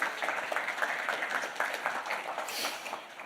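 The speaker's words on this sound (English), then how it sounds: "Applause them, please." An audience at a Zabbix Summit conference session claps in a moderate, fairly distant round of applause, with a few sharper individual claps standing out.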